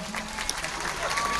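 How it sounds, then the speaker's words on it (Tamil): Church audience at the Villianur Madha Shrine CD release applauding for Father Samu, steady crowd clapping with a voice talking over it. "ஃபாதர் சாமு அவருக்கு ஒரு இன்னும் அதிகமாக ஜோராக கைத்தட்டுங்க பார்ப்போம்."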